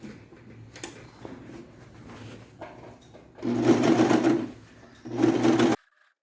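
An overlock serger stitches a denim skirt seam, starting and stopping in loud rapid whirring bursts with quieter mechanical handling between runs, then cutting off abruptly.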